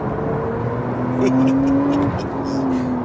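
A sports car drives on a race track at moderate pace while its tyres are warmed on a cool day. The engine hums steadily and close by, with its pitch rising and easing gently under constant road and wind noise.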